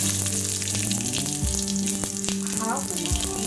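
Cumin seeds dropped into smoking-hot mustard seed oil, a loud close crackling sizzle that runs steadily with bursts of spitting, alone without talk.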